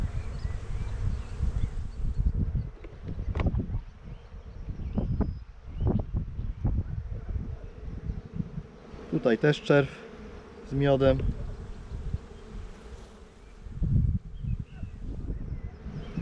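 Honeybees hum and buzz steadily close by at an open hive, a dense drone with a few louder buzzing passes, while a person speaks intermittently over it.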